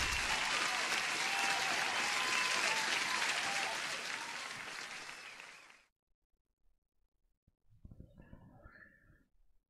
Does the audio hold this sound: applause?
yes